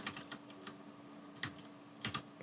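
Buttons on a Blackmagic DaVinci Resolve Speed Editor are pressed in short clicks, first a quick cluster, then a single press and a final pair, faint and close against quiet room tone.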